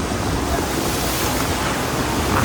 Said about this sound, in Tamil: அலை ஒவ்வொன்றும் நல்லா பெரிய பெரிய அலையாக வருதுங்க.